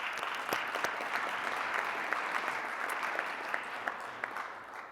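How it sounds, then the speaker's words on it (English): An audience at a Rotary club meeting claps steadily for several seconds, a moderately loud, even round of applause from a modest-sized room. "Let's give Larry a round of applause."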